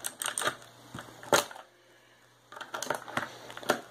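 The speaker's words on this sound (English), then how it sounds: "You guys can hear this keyboard is a myth keyboard." Clicky keystrokes on a dusty Myth mechanical keyboard in quick bursts, a short pause, then another flurry of clacking keys, close by.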